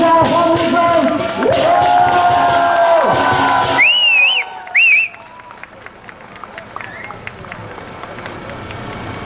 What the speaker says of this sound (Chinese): 来，掌声加欢呼声